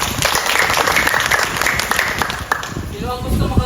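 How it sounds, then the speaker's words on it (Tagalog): An audience, including children at a gift-giving event, clapping loudly and continuously in a room, with voices mixed in and a fainter high tone running through most of it before the clapping thins toward the end. "Palakpak daw tayo."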